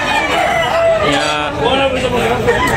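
Roosters crow at a busy gamefowl market in Tabunok, Talisay, Cebu, with crowing calls overlapping from several birds amid dense background chatter and a voice talking over them.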